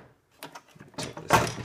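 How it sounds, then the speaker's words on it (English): A Foodsaver vacuum sealer's latching door is opened and closed, producing a few close, sharp plastic clicks and clunks, with the loudest latch snap near the end. "when I open and close the door,"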